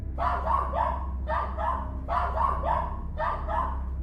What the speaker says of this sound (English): the third grew agitated and began barking at something odd